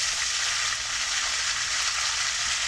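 Coriander and mint fry in hot mustard oil for a South Indian mustard chicken, giving a steady, loud, close sizzle that holds unchanged throughout with no voices.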